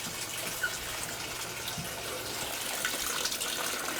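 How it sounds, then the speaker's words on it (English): Water runs steadily into a Haier HPL21N portable washing machine, a continuous close hiss of filling from a tap with no pauses and no talking. "can see and hear the water running"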